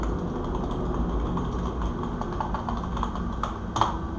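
Keys clatter on a computer keyboard as code is typed into a server.js file for a MERN Express app connecting to MongoDB, steady soft clicking under a low background hum with one sharper tap near the end.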